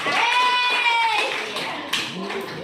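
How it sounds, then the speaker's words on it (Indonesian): A ninth-grade class claps hands in a short round of applause, with children's voices calling out over the clapping. "tepuk tangan buat"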